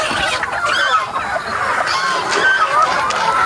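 Backyard farm chickens cluck and squawk continuously, several birds close by in a steady, busy chorus with no talking.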